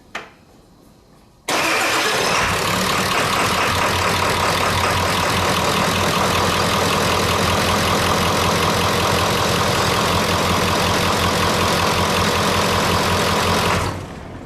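The 7.3L turbo diesel engine of a 1996 Ford F-350 cranks briefly and catches, then settles into a loud, steady, clattering diesel idle heard up close for about twelve seconds before cutting off abruptly.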